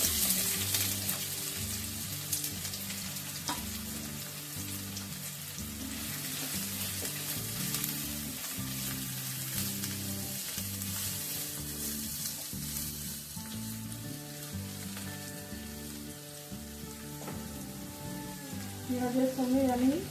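Onion sizzles in white oil in a wok, a continuous crackling fry beneath steady background music.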